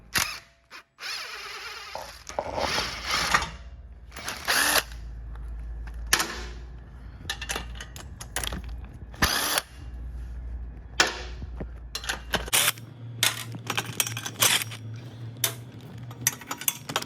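Power tool, likely an impact wrench, removing muffler hanger bolts from a Honda CB650R motorcycle under accident repair on a lift; repeated bursts of whirring and rattling with clanks and tool handling, no speech.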